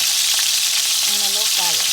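Beef steak sizzles loudly and steadily in a pan with onions. The frying is close and continuous, and a brief voice or tonal sound rises near the end.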